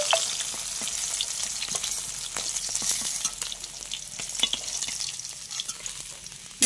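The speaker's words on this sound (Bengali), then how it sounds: "মাছগুলো আগে ভেজে নিই।" Pieces of rohu fish fry in hot oil for a Bengali curry, giving a steady, loud, close sizzle with scattered sharp crackles and pops throughout, no voices.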